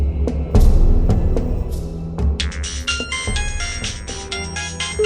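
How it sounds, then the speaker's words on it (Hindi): A bright electronic phone ringtone plays a repeating melodic pattern over background noise, with a low thump early on; no one speaks. "कुछ घंटों के बाद उसी नंबर से अर्जुन के फोन पर कॉल आया।"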